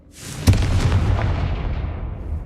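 A Confringo blasting spell explodes in Hogwarts Legacy: one sudden loud boom with a bright crack, then a long rumbling roar that slowly fades.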